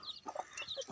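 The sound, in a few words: brooding hen clucking on her eggs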